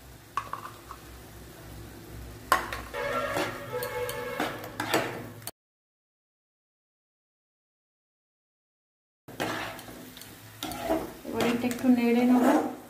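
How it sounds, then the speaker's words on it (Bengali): Spices frying in a pan for soybean curry with tomato and ginger paste, stirred with a utensil that scrapes and clatters over a sizzle in bursts, followed by a silent gap before the stirring and frying resume. "একটু নেড়ে নেব"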